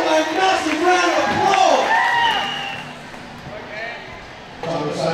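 Crowd cheering and clapping at the ASA Australia Scooter Finals, an under-13s skatepark competition, heard beneath a loud announcer's voice, with clattering scooter sounds mixed in and the crowd noise easing off partway through.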